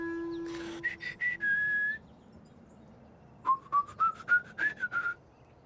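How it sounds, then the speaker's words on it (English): Two bursts of cartoon character whistling in a children's cartoon: a short rising phrase, a pause, then a longer wavering melodic run, clear and fairly close over faint background hiss. "He tried whistling."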